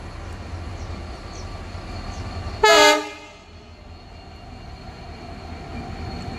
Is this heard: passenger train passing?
yes